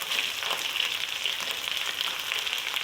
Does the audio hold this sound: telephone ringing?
no